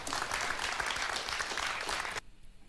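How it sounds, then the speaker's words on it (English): Dense applause from spectators in the stands fills the space loudly and steadily, then cuts off abruptly near the end, leaving near silence. "everybody that's clapping in the stands right now as we speak"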